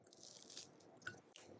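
Crunchy toasted bread is bitten and chewed close to the mic, giving crisp crackling bites over a faint steady background hiss, with one sharper snap near the middle.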